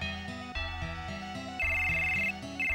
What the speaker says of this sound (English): We're gonna get a phone call.